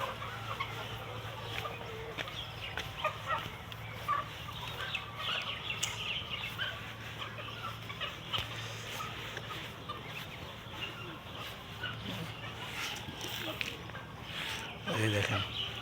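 Layer chickens cluck softly while eating feed, a faint continuous murmur of birds with occasional louder calls under a speaking voice.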